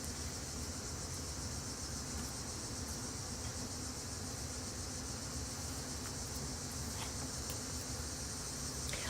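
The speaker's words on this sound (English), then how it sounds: "I love the cicadas. I hope you can hear that." Cicadas buzz outdoors in a constant, dense, high drone that holds steady and fairly faint throughout, with no voices.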